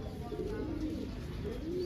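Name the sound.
pet bird calling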